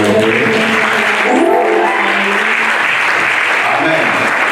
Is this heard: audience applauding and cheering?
yes